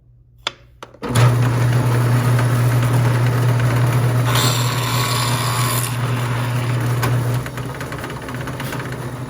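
A power drill bores through a pilot hole in a pull-string top, starting after a couple of faint clicks and then whirring in a steady, loud, continuous drone for about six seconds before winding down.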